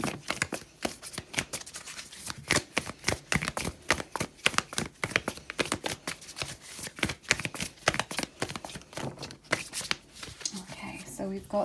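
Tarot cards from a Dark Mansion deck are shuffled in a steady run of crisp, rapid riffles and flutters, close and fairly loud, continuing without pause through the whole stretch.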